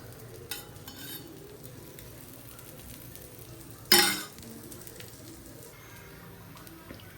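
Food roasting in coconut oil in a pan, a quiet, steady sizzle with one sharp scrape of a stirring spoon partway through, no talking.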